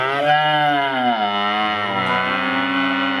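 Cows in a video game lowing in a long, drawn-out moo with a sliding pitch that carries loud and close for about three seconds, with no voices over it.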